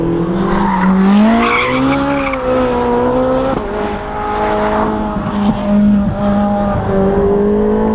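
A Ferrari 458 Speciale slides sideways under electronic drift control, its engine note rising and falling loudly while tyres squeal continuously throughout, close and without talk.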